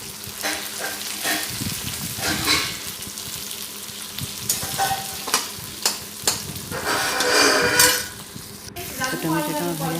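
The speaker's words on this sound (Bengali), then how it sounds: "টমেটোটা দিয়ে দিলাম" Tomato fries in oil in a pan for a home-style fish curry, a loud close sizzle broken by repeated spatula scrapes and stirring strokes, swelling into a longer burst of hissing toward the end.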